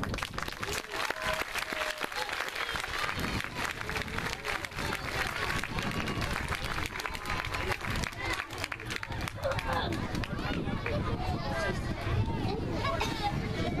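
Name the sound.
school audience applauding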